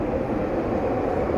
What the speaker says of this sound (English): the train going by.